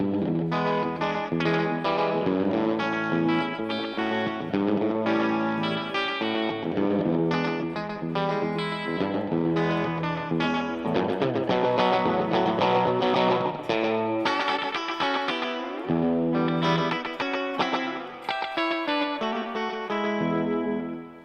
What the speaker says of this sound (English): then I can bring in the echo volume to hear the repeats